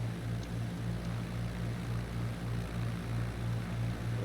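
A propeller aircraft engine in Microsoft Flight Simulator 2020 drones on a flight over southern Spain. A steady, fairly loud buzzing hum carries on throughout without talk.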